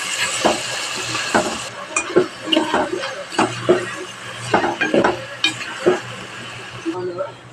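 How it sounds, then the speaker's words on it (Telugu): Potato, beans, carrot and capsicum curry is stirred in a pan: repeated close scrapes and clinks of a spoon against metal come in an uneven rhythm over a soft background sizzle. "ఇందులోని బంగాళదుంప ముక్కలు, బీన్స్, క్యారెట్ ఈ మొత్తం వేసి మిక్స్ చేసుకున్నాం"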